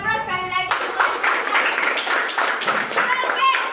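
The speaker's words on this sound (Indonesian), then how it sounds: "Beri aplaus sekali lagi" Audience applause at a workplace celebration for newly promoted assistant managers, a dense wash of clapping hands that rises abruptly after a brief tone and carries on steadily, with voices mixed in.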